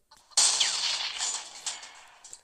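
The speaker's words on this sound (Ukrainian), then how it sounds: "Хорошо, так потужно стріляє." A tank cannon fires once in the Roblox game WW2 Tank Simulator, a sharp loud blast with a bright, crackling tail that fades over about two seconds.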